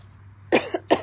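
Two sharp, close coughs about half a second apart, with quiet room hum between them.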